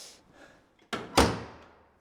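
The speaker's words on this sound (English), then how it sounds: "Oh, door is unlocked." An unlocked door is pushed open, giving a quiet latch click followed by two sharp wooden knocks and a short thud, heard close and alone.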